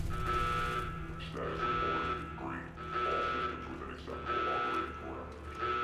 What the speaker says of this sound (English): I hate that alarm.